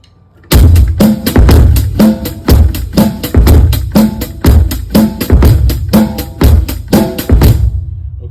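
A bass drum sounds through a Drumagination trigger, a sharp loud strike followed by an even run of punchy beats in a steady rhythm, close and alone.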